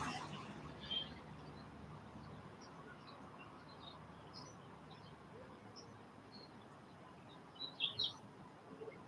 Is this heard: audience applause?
no